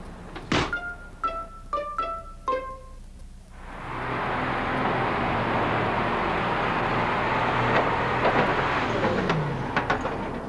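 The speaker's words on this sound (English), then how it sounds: "there goes another truckload of newly minted coins" A truck loaded with newly minted coins pulls away from a U.S. mint after a few metallic clanks and knocks, its engine rising into a steady, loud rumble that fills the rest.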